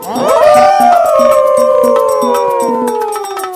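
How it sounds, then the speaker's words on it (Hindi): Several overlapping fox howls from a pack rise together and then slowly slide downward in long, loud wails, with a steady rhythmic beat underneath. "उन लोमड़ियों के झुंड ने नए राजा का अभिवादन करने के लिए एक साथ आवाज लगाना शुरू किया"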